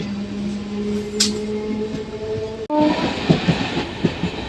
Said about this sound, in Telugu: మన ట్రైన్ అయితే రాలింగి రైల్వే స్టేషన్ నుండి అయితే బయలుదేరిపోయిందండి